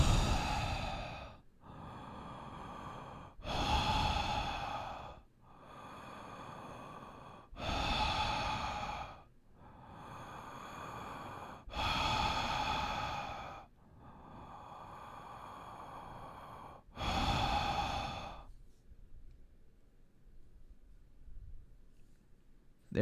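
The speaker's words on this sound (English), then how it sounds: "I can't hear you breathing enough." Heavy, deliberate breaths blown right into a microphone come in about eight long, loud gusts with short silent gaps between them, then the sound stops and only faint quiet remains.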